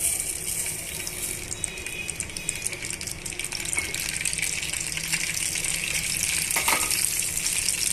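Cumin and fenugreek seeds fry in hot oil in a pan, a steady broad sizzle that stays near and fairly loud throughout, with light crackle and occasional stirring scrapes and no talk.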